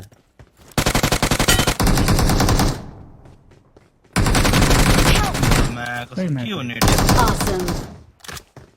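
Loud bursts of rapid automatic gunfire in two long volleys, separated by a short pause, with game sound effects between them.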